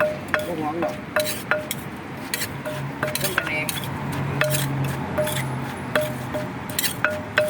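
Thai papaya salad (somtam) is tossed and mixed in a bowl with utensils, producing repeated close clinks and knocks in a fairly regular rhythm over soft background noise and faint voices.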